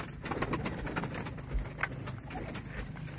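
Pigeons cooing among a group of male and female birds, soft continuous low coos layered with a few faint rustles, moderately close and without talk.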